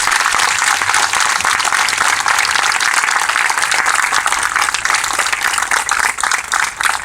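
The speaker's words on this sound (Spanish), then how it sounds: "la compañera Raquel Curnet, por la cual pedimos un fuerte aplauso." Audience at a memorial plaque ceremony clapping, dense sustained applause from a crowd lasting the whole stretch and loud throughout.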